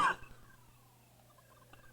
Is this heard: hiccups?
yes